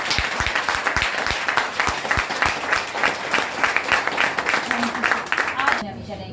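An audience at a health training session breaks into lively clapping, with sharp individual claps over a dense crowd patter, steady for about six seconds before it stops abruptly.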